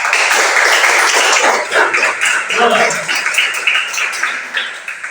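Students in a classroom applaud their classmates after group presentations: a dense burst of clapping that is loud at first, then thins out and fades over several seconds.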